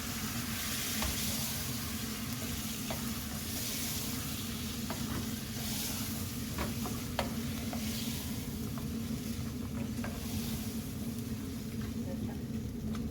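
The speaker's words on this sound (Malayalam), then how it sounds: "നന്നായിട്ട് ഇളക്കുക" Carrot biryani mixture stirred in a pan, with a steady low sizzle and scattered scrapes and clicks of a spoon against the metal throughout, close and moderately loud with no talking.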